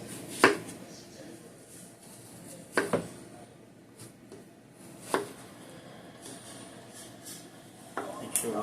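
Yams being cut for candied yams and dropped into an 8-inch dish pan, with a handful of sharp knife chops and clacks spaced a few seconds apart over quiet kitchen background.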